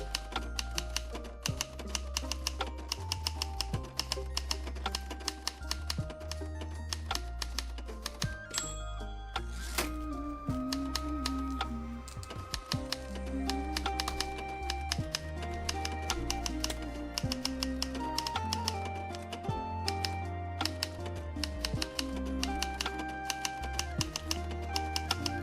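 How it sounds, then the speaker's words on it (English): Clicky keyboard typing sound effect in the video game Spirit City, a rapid, continuous stream of sharp key taps layered over steady background music, running on for a long stretch with only brief pauses. "Does it want the keyboard typing?"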